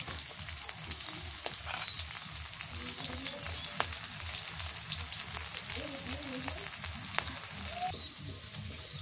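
Saag greens fry in a pan with garlic, green chili and salt, making a steady close sizzle broken by occasional stirring scrapes, with a faint voice in the background.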